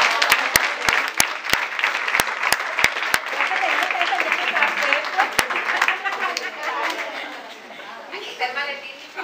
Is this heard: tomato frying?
no